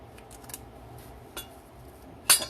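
Peaches sliced with a knife in a kitchen, a few scattered soft cuts and taps against a quiet background, ending in a sharper, louder clink of metal on a dish.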